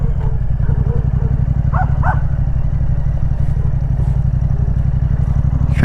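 A Yamaha MT-07 twin-cylinder motorcycle engine runs with a loud, steady, close-up pulsing throb, and a couple of dog barks sound faintly in the background of a neighborhood ride.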